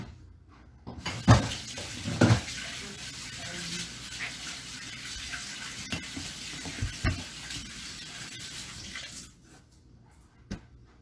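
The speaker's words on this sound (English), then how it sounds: "Let me wash my hands really quick." Running water from a tap splashes steadily over hands at a sink, with a few louder splashes and rubbing bursts near the start, continuing fairly close for most of the stretch before the flow stops.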